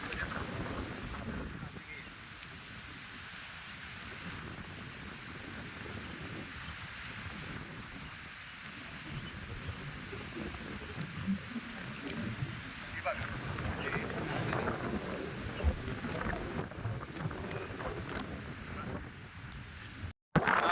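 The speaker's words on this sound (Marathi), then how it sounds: "जोराचा वारा सुटलेला आहे" Strong wind roars steadily on a wild hillside, buffeting the microphone with gusty rumbles for a long stretch, no one talking over it.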